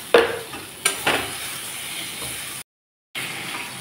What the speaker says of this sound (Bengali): সবজির সাথে মশলা ভালোভাবে কষিয়ে নিলাম